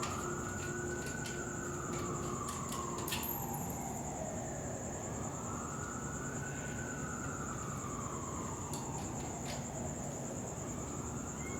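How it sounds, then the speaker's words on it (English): Wailing ambulance siren sweeping up and down in slow cycles, steady and moderately far off beneath a constant broadband hum and a high whine, on a Saturday night while work goes on near a 1981 Harley-Davidson FXB Sturgis. "That sounds like an ambulance there."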